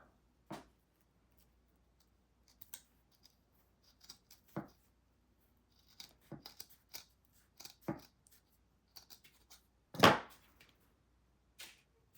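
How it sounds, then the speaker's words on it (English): Scissors snip through folded wallpaper for a junk journal, making a series of sharp, close cuts with short pauses between them and one louder, longer slice near the end. "I'm gonna cut it in half so that it's not as wide."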